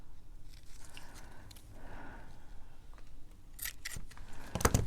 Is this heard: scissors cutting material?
yes